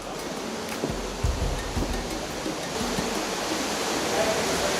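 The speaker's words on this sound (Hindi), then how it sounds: "अब हम जा रहे हैं वाटरफॉल की तरफ" The waterfall inside Smoo Cave in Scotland roars as a steady, broadband rushing hiss, close and constant, with a few faint thumps and a voice briefly speaking in the background.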